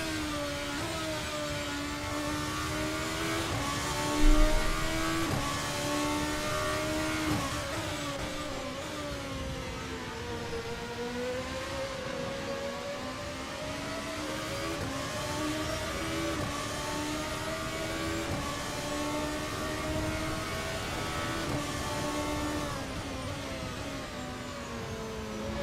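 Race cars lapping the Silverstone circuit in a Formula Beta Cup sim race, with a continuous engine whine that rises and falls through gear changes and corners, steady and moderately loud with no talk over it.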